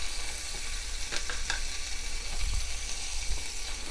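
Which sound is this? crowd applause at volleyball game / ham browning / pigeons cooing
ham browning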